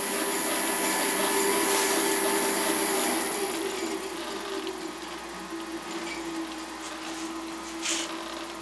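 A converted Delta saw with a 1725 rpm motor on a DC VFD, crawling at a very low frequency setting; a steady, moderately quiet mechanical hum and whir with a faint high whine holds throughout.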